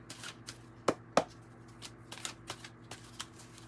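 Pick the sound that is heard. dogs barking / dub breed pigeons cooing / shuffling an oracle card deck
shuffling an oracle card deck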